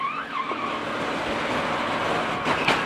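From onboard a NASCAR race car, tires squeal and skid under a loud, continuous engine roar as the car gets loose, with a couple of sharp bursts near the end.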